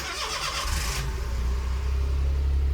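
A Honda Z UM4 kei car engine cranks briefly, then catches and settles into a steady, smooth idle, close and clear with no other sounds.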